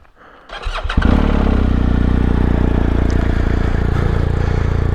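A 2019 BMW R1250GS motorcycle engine cranks briefly and fires up, settling into a loud, steady, close-up idle with a low throbbing rumble that continues to the end.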